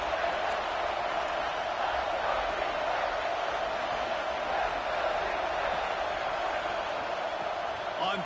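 Steady stadium crowd roar in a college football video game, a constant dense cheering wash with no pauses, loud and even throughout.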